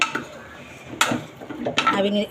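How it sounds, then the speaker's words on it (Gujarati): Potatoes being mashed in a pan for bread pakora, irregular metallic clanks and scrapes of a utensil against the pan, close and moderately loud in a quiet kitchen. "જો બટાકાને છે ને હું આવી રીતે જ અંદર મેશ કરી નાખીશ."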